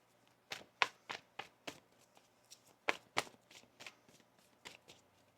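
Tarot cards shuffled by hand up close, a series of sharp papery slaps and riffles in uneven rhythm, some louder than others, over a quiet background with a faint low hum and no speech.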